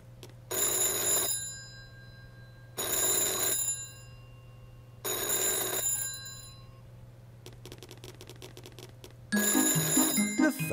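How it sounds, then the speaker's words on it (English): An old-style telephone bell rings in four loud, evenly spaced bursts, with a brief tinkling sound between the third and fourth rings. "The phone is ringing."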